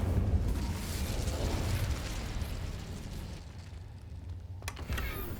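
Hogwarts Legacy's Incendio fire spell gives a loud, roaring burst of flame that whooshes and crackles for a few seconds, then fades, followed by a short sharp pop near the end.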